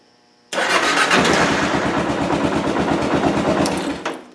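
A motorcycle is started in gear with the clutch pulled in. The starter catches and the engine fires at once into a loud, steady running note that holds for several seconds before easing slightly at the end.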